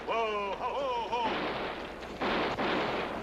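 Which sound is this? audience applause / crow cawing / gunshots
gunshots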